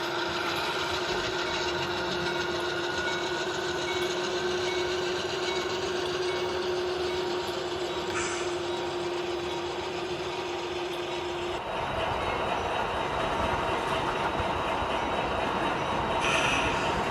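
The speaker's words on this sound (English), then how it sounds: "the train crew will bring this loaded wood chip train into a yard track" A steady, continuous mechanical rumble with a sustained tone from an HO scale model freight train loaded with wood chips running along the track, shifting character partway through.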